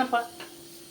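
Raw prawn and gongura (sorrel leaf) curry stirred in a pan, a short scrape and soft sizzle, close and brief, fading quickly.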